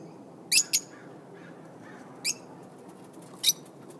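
Lovebirds, including a cherry head, chirping in short high bursts: a quick double call, then single chirps spaced out over a low steady room murmur, moderately close.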